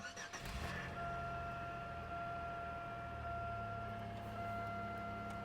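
A used car at a public auto auction idles after a brief cranking burst at the start, the engine settling into a steady low hum with a faint electrical whine, close and fairly quiet.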